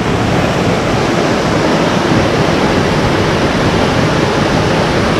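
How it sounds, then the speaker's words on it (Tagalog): Second waterfall in a series of falls, its broad, steady roar of rushing water filling the air loudly and evenly, with no voices and no breaks. "ito yung pangalawang falls"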